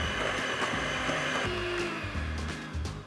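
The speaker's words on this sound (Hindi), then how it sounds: "अब इस सबको अच्छे से मिक्स करना है।" An electric mixer beats butter with caster sugar and brown sugar, giving a loud, steady motor whine with slight wobbles in pitch as the beaters work through the mixture, close and with no talk.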